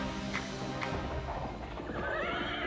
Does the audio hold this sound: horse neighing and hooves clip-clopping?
yes